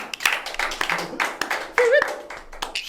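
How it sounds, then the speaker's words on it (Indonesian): A few people clap hands in a small podcast studio, scattered close claps, with voices talking and laughing between them. "Tepuk tangan dulu."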